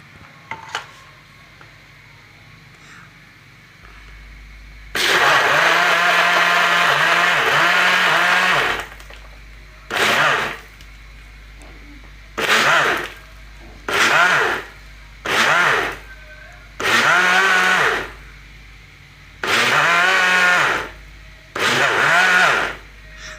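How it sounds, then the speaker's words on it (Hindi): A kitchen blender grinds mango shake ingredients in a long loud burst, then runs in a series of short repeated pulses, each rising and dropping with a motor whine, with quiet pauses between. "अब हम इसे ग्राइंड करेंगे।"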